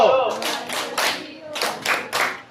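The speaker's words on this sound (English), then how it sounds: "So let's give them an amazing clap." A grade 7 class applauding in a classroom, a burst of clapping hands with several rhythmic waves of claps, fairly close and loud, with no talk over it.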